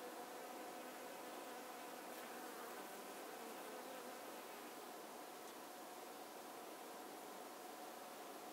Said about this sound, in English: Don't the bees just love the artichoke?